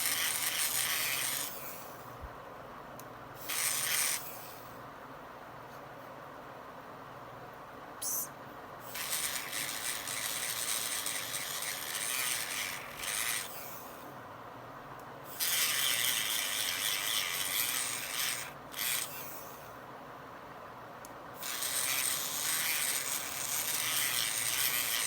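Power tool sanding and polishing UV resin, a bright raspy whirring that runs in bursts with short pauses between passes, close and fairly loud throughout.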